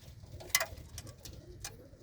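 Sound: pigeons cooing in a loft

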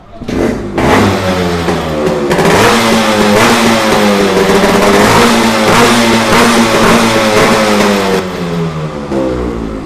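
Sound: Yamaha RX100 motorcycle engine revving

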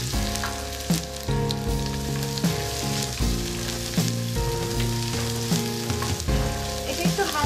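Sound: curry leaves and onion frying in pan

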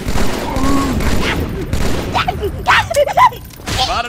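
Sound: grenade explosion and gunfire in Halo 2 video game

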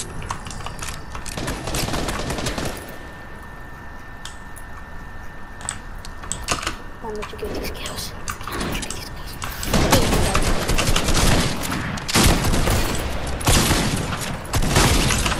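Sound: gunfire in a video game

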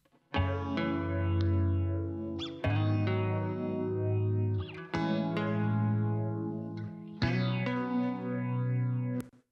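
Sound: two acoustic guitar tracks played together, panned

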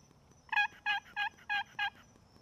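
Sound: turkey pot call imitating turkey sounds

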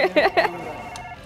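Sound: hotel reception telephone ringing

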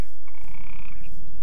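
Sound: frog croaking in the video game The Betweenlands

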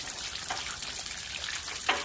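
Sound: water running out of a line

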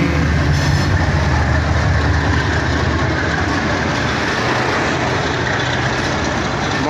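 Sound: Mohenjodaro Express passenger train passing

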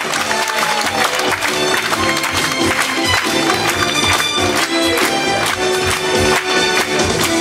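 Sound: audience applause at a folk song concert

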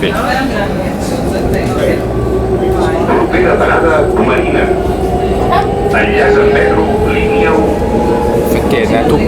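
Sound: riding a T4 tram in Barcelona

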